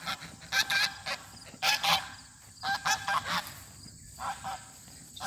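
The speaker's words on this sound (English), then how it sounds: "I'm gonna get away from them geese, they're way too noisy." A flock of geese honks loudly and repeatedly in bursts of overlapping calls, close by, with brief pauses between the noisy outbursts.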